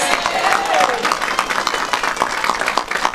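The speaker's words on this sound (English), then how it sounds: "Give him a round of applause" Audience applause greets a former senator being introduced at a Senate campaign announcement, a dense steady wash of clapping with crowd noise mixed in, filling the short stretch at a fairly loud level.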